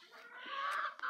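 A chicken gives a short, close run of clucks, rising into a brief squawk near the end.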